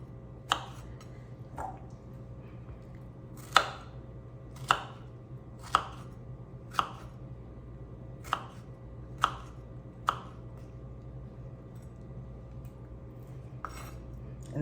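A knife slices strawberries on a cutting board in a home kitchen, about ten sharp, distinct chops spaced irregularly, close and clear over a low steady background hum.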